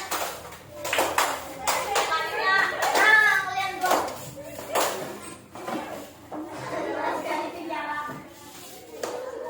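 Students applaud in a classroom with irregular, scattered claps mixed with children's chatter and voices throughout.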